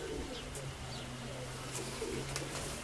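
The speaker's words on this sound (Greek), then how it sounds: "Ένα περιστέρι έχει μείνει πάνω." A pigeon coos in a low, soft, repeated warble, moderately close, over outdoor background noise, with a few faint chirps from other birds.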